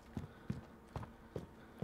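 Footsteps in Call of Duty Modern Warfare (2019) thud in an even rhythm, five muffled, fairly quiet steps spaced evenly apart, with no talk over them.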